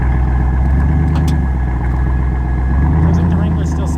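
A Jeep Wrangler stuck off-road, its engine droning steadily with a low rumble as the wheels spin, loud and continuous throughout, with people talking over it.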